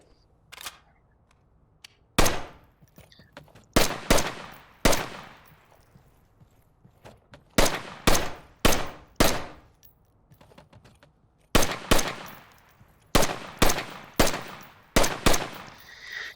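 Bullpup rifle fire on a close-quarters practice range in a video game, sharp single shots and short bursts spaced across the stretch, loud and close with quiet gaps between.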